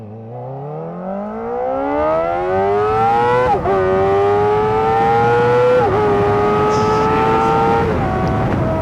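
A 2024 Kawasaki Ninja ZX-4RR motorcycle engine screams loudly up through third and fourth gear, its rising whine climbing steadily with two brief dips at shifts, continuous and close under wind noise.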